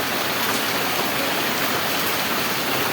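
Steady rain pours down in a dense, even hiss, with no voices.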